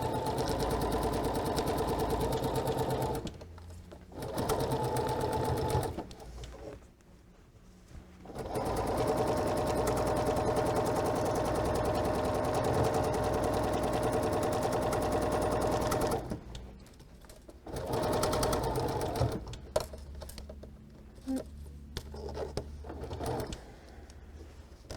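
Sewing machine stitching quilt fabric in rapid bursts, its close mechanical whir starting and stopping several times with short pauses between runs.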